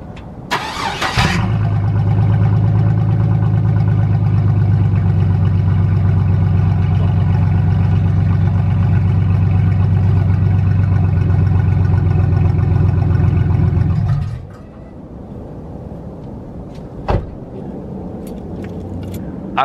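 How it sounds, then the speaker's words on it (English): A Ford F-150 truck engine cold-starts in icy weather, cranking briefly before catching into a loud, steady idle that runs for about thirteen seconds, then cuts off, leaving faint background noise. "y'all wanna hear a cold start? With the ice?"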